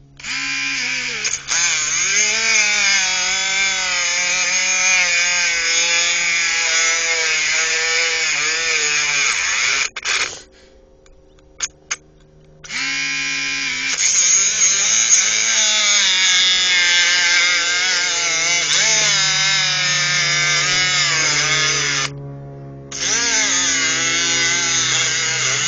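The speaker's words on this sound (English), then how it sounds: "See the cutoff wheel just sinking down in it." A Dremel cutoff wheel sinks into a steel cable bike lock with a loud, close, high-pitched grinding whine that runs steadily, cuts out briefly twice, then resumes; no one speaks.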